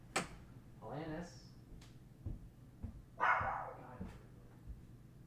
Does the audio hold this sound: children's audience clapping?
no